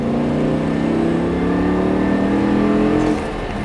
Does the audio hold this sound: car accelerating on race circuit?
yes